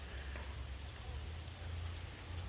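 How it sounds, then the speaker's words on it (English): Small stream running beneath a trail bridge after morning rain, a steady broadband wash of flowing water close by with a low rumble underneath, continuous and without talk. "A little stream is trickling through under the bridge here"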